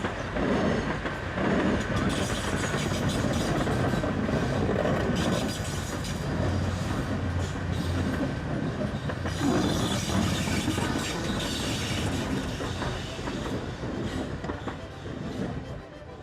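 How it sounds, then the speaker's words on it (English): A steam train on the South Devon Railway rumbles steadily close by, with continuous mechanical clatter and rolling noise throughout, loud and unbroken. "we were right next to a steam train"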